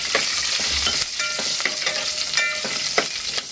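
Green chillies cut into large pieces crackle in a hot tadka for dahi kadhi, a dense steady sizzle with spoon stirring and small pops throughout.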